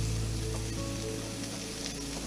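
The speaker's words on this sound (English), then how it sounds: "Got a lot of fire going on here as I put on my Kabobs." Kabobs sizzle over a hot, high-flame grill fire, with a steady, dense crackling fry that stays loud and close throughout, no voices.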